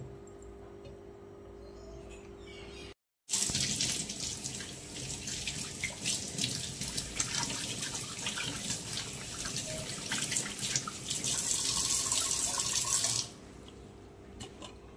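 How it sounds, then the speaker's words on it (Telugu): Hot water pours over food being cleaned, a steady running-water splash with clear trickling texture that begins abruptly after a short pause and continues evenly before stopping near the end. "ఇలా హాట్ వాటర్ వేయంగానే ఇలా వచ్చేస్తుంది"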